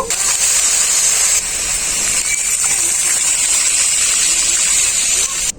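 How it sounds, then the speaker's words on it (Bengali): Water is poured into a fried paste of chili, turmeric and cumin powders for a fish curry, a loud, steady hissing gush with sputtering that runs for several seconds, then cuts off abruptly. "এখন আমি এর মধ্যে জল দিয়ে দেব"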